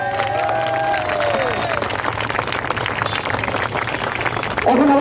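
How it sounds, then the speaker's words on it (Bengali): Students at a Titumir College rally break into dense, sustained applause mixed with crowd noise, loud and steady throughout, with a brief voice rising near the end. "হাততালি হবে।"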